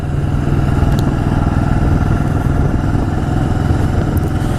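A 1985 Yamaha Virago motorcycle engine roars steadily while riding on roads around East Hampton, New York, a loud continuous low throb with wind rush and no pauses.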